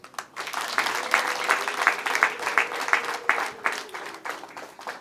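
Wedding guests clapping together, a lively crowd of hands applauding at close range for about five seconds with a faint voice underneath.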